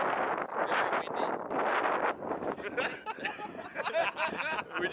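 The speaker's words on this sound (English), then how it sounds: "It's very windy." Gusty outdoor wind buffets the microphone in loud, uneven rumbling rushes, with faint chuckling and voices mixed in.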